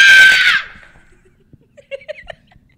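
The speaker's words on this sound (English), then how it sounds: "I get to scream bloody murder" A high-school actor playing Pugsley in an Addams Family musical lets out a loud, piercing scream lasting about half a second that fades quickly, followed by scattered faint laughter and shuffling.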